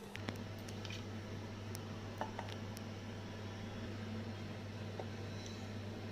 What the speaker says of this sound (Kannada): ಗಸಗಸೆ, ಬಾದಾಮಿ, ಏಲಕ್ಕಿ ಇದಿಷ್ಟನ್ನು ನಾವೀಗ ಗ್ರೈಂಡ್ ಮಾಡ್ಕೊಳ್ಳೋಣ.